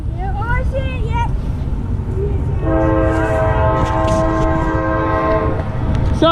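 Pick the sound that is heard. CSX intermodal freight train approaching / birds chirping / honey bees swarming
CSX intermodal freight train approaching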